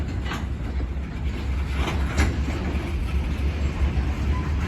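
Freight train cars and an old caboose roll past on a BNSF line, a steady close rumble with faint rhythmic wheel clicks and no talk.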